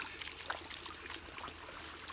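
River water poured into a fish masala mix outdoors by a riverside, a steady soft trickling and splashing that runs continuously at low volume with no talk.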